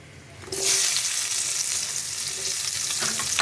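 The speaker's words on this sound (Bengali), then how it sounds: "পেঁয়াজগুলো একটু লাল লাল করে ভেজে নেব" Chopped onions hitting hot oil in a wok with a bay leaf and whole chilli, a sudden loud sizzle that stays strong and hissing, with stirring sounds near the end.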